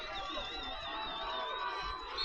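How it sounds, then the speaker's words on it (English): A crowd at a high school varsity football game between the Thermopolis Bobcats and Lovell Bulldogs roars and cheers continuously, a dense wash of voices and shouting heard from a distance. "And the crowd incredibly loud here"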